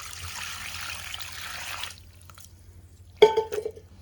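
Water is poured into flour for cauliflower Manchurian batter, a soft trickling stream for about two seconds, then quiet before a few clunks and wet sloshes.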